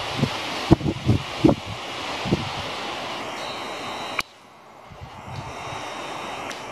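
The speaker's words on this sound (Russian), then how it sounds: "Сильный ветер." Broadband strong mountain wind in the Urals rushes across the microphone for several seconds with a few thumps and knocks, then drops abruptly to a quieter hiss.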